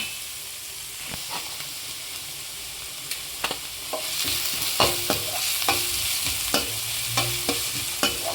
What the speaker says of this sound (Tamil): கொஞ்சம் கல்லுப்பு போட்டு வதக்கிக்கங்க